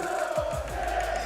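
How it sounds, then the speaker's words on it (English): French fans cheer loudly as a crowd at a Fortnite world championship event, a dense, sustained roar of voices with a few rising shouts, all heard together. "apparently the French community, they cheer the loudest"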